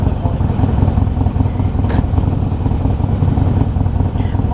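A motorcycle engine rumbles steadily and loudly close by throughout, a continuous low drone with no pauses or clear revving peaks.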